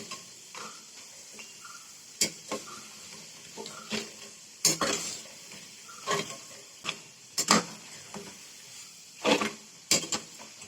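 Banana chips fry in hot oil with a soft steady sizzle, broken by repeated bursts of louder crackling as the slices are turned.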